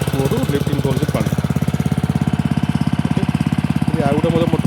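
A Honda 3.5 HP water pump engine runs steadily close by, a fast, even chugging thump with a slightly rough knocking edge, loud and unbroken throughout.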